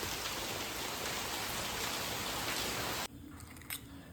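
Heavy rain pours steadily in the hilly Malenadu region of Karnataka, a loud, dense hiss that runs unbroken for about three seconds and then cuts off abruptly, leaving quieter background sound.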